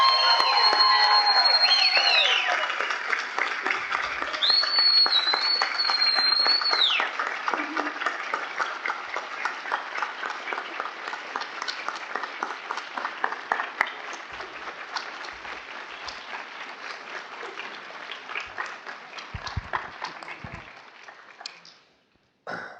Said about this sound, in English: please join me in giving our second lieutenants one final round of applause